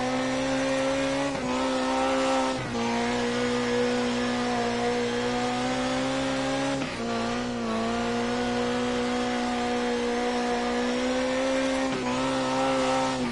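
Midget race car engine in a World of Outlaws video game at the Chili Bowl, a loud buzzing high-revving drone that dips and climbs again several times as the throttle is worked, with no voices over it.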